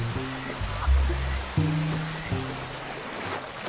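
Creek water flowing at Butcher Creek in Red Dead Redemption 2: a steady broadband rush runs throughout, with low tonal swells and thumps layered underneath.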